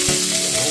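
Onion frying in hot oil for Filipino pakbet, a loud, dense, close sizzle with one quick knock of a utensil near the start.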